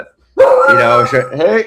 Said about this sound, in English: Hey, it's the dog.